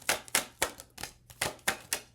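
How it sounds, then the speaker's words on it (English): A deck of tarot cards is riffled and tapped in a quick series of crisp, papery bursts, close and fairly quiet. "So I'll shuffle that back in and see if it comes back out."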